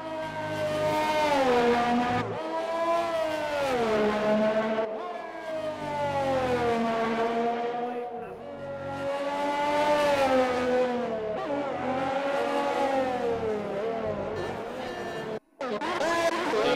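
Formula 1 race car in a video game at the Vietnam circuit, engine screaming continuously through a flying lap, pitch rising and falling with gear changes, loud and close, with a brief cut near the end.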